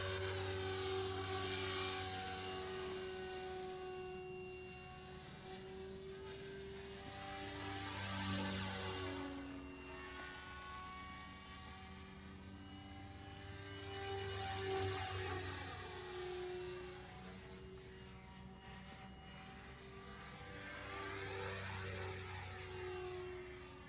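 A small 420-size RC helicopter's engine and rotor whine drone steadily, swelling and receding as it flies around at moderate distance.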